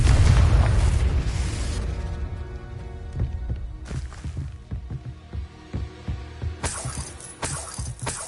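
A fiery Confringo spell blast from a Harry Potter game bursts loudly at the start, then fades into scattered crackling debris and clinks, with further sharp bursts near the end.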